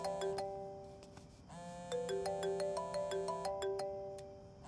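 A mobile phone ringtone plays a melodic sequence of bright, bell-like electronic notes, repeating phrases close and clear over a quiet room with no one speaking.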